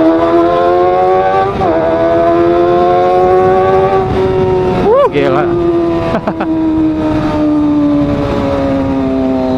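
A motorcycle engine drones loudly and steadily throughout, with its pitch shifting slightly as it revs, while someone talks over it.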